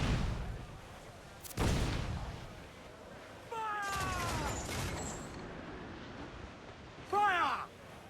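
Ship cannons fire during a naval battle in Assassin's Creed IV: Black Flag, a few heavy, separate booms spaced seconds apart, with shrill, wavering calls and constant ambient roar between the shots.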